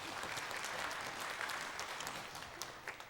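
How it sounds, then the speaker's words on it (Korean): Congregation applauding during a Korean Sunday church service, a soft, steady wash of many hands clapping at a distance, with no talk over it. "우리 하나님께 영광의 박수 올려드리겠습니다"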